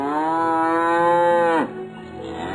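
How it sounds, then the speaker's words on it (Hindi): A cow named Bhuri gives one loud, drawn-out moo lasting about a second and a half. It ends abruptly and trails into quieter low breathing noise. The cow is close, and no one speaks. "भूरी जोर से रंभाना शुरू करती है"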